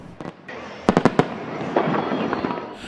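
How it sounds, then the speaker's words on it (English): Several sharp, loud firework bursts crack in quick succession, followed by a rumbling, crackling wash of smaller pops and echoing booms. "A good fireworks show is an explosive combination of color, choreography, and concussion."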